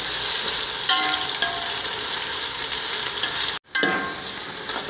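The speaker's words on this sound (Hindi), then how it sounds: "इत्थे हुण लहसुन अदरक की तकरीबन 4-5 मिनट भुनाई कर लसां।" Garlic-ginger paste sizzles and fries steadily in a hot pan with occasional stirring scrapes, a continuous close hiss broken by a brief drop near the end.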